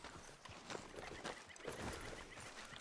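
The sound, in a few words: horse hooves while riding in video game Red Dead Redemption 2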